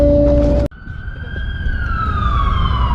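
An ambulance siren on a Washington DC street wails after a sharp break in the sound, its steady high tone sliding slowly downward as the vehicle passes close by.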